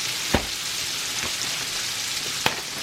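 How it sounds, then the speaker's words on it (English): Onions, celery and carrots frying in bacon grease for corn chowder, a continuous close sizzle with two sharp clacks of a utensil against the pot, no talking. "you're going to put that in with the bacon grease to fry up"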